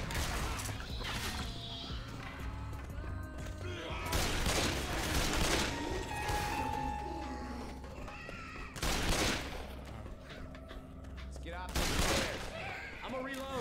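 Video game gunfire crackles in repeated loud bursts of rapid shots separated by calmer stretches, with people talking over the action throughout.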